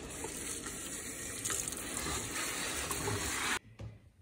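Water pours steadily from a sink tap onto a houseplant, a continuous splashing gush that stops abruptly near the end.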